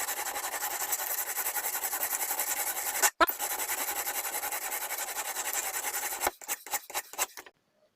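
A blade is drawn across an Edge Pro clone sharpening stone in quick, steady rasping strokes, nearly continuous for about six seconds with one brief pause. A few separate, slower strokes follow before it stops.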